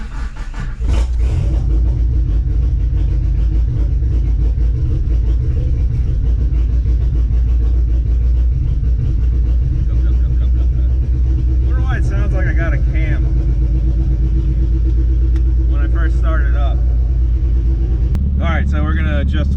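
Mitsubishi Conquest engine idling with a steady low rumble throughout, loud and close, on a wet day while the fuel setup is being adjusted; brief voices break in near the middle and end.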